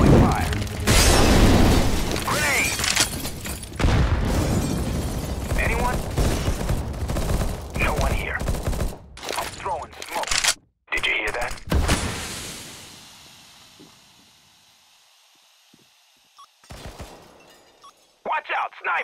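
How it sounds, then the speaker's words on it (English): Counter-Strike: Global Offensive match on the Agency map with bots: a flashbang and incendiary grenade go off amid dense gunfire bursts and booms, followed by a crackling burn tail as the action thins, with game voices over it. "Flashbang. Throwing fire."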